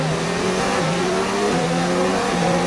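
A race car engine in a racing video game drones continuously, its pitch stepping and sliding through gear changes at steady loudness, with no talk.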